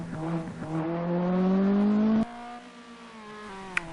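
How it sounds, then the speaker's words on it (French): A Lotus Exige sports car engine revs up with a climbing whine, then cuts off abruptly, leaving a quieter idle hum and a brief click. "écoutons le son du moteur de l'Exige"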